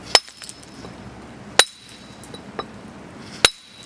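A hammer chipping stone while building a stone wall, three sharp ringing strikes spaced over a few seconds, with lighter taps between them, close and clear with no talk.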